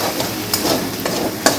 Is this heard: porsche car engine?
no